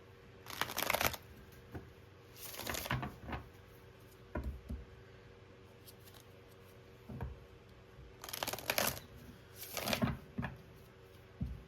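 Tarot cards being shuffled in several quick riffling bursts separated by quiet pauses, with soft taps and clicks in between, close and faint, with no talk.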